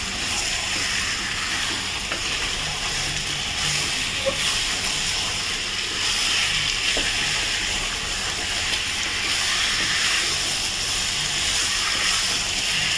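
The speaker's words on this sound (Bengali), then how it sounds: "ঝরে দিয়ে একটু ভাজবো চিকেনটাকে" Chicken pieces frying in a pan over a raised flame, a continuous close sizzle and hiss with occasional faint pops and stirring clinks, no voices.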